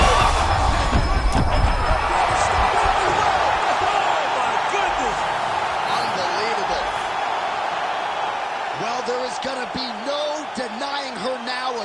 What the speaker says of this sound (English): huge TKO result here tonight, and this crowd is letting her know